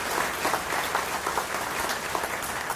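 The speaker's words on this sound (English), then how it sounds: "please give them a round of applause" At a school district anniversary celebration, the audience gives school board members a round of applause, a steady, full patter of many hands clapping at moderate volume throughout.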